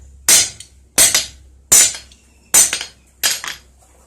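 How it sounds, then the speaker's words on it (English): A blacksmith's hammer strikes a metal edge to texture it: five sharp, ringing blows spaced roughly evenly, each followed by a quick bounce tap, close and loud with no talking. "One style of hammer texture is just hitting all over."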